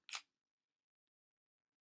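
A single sharp camera shutter click from a digital camera set to bulb mode, close and crisp, followed by near silence.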